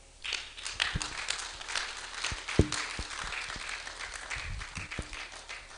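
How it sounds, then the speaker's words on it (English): Audience applause for a presenter at a formal launch event, a dense broadband patter of clapping with a few sharper thuds and knocks, moderately loud and steady throughout. "I believe the presenter deserves another round of applause."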